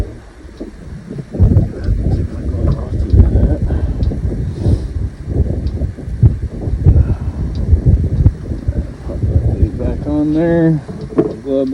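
Cold outdoor wind buffets the microphone during a roadside car brake pad replacement, a low rumbling gust noise under nearly continuous talking.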